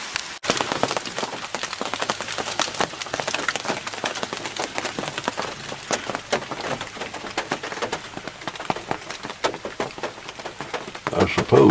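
Raindrops patter densely and steadily on the roof of a small van at a deer camp, a continuous crackling spatter close by, louder toward the end.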